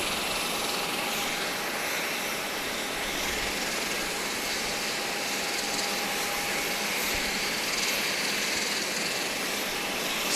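Cayman Airways Express plane on a flight to Cayman Brac, heard as a steady, loud broadband engine roar with a faint whine, continuous throughout without talk.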